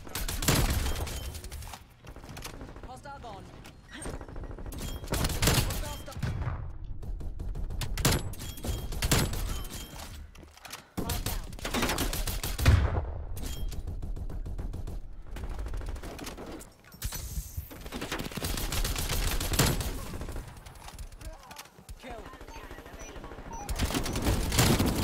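A DMR 14 rifle fires in a video game shooter, loud rapid shots crackling almost continuously over busy battle noise, with short gaps between volleys.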